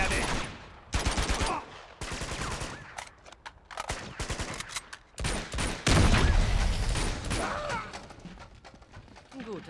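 Rapid automatic gunfire in repeated bursts with scattered single shots and impacts in Uncharted 2: Among Thieves, loud and close, with brief talk mixed in.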